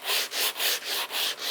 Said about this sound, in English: This is 100 grit on a little sanding block is good enough.